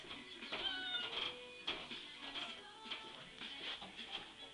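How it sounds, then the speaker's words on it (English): A house cat meowing indoors, a few short, fairly faint mews spaced over a few seconds against quiet room noise. "my cat."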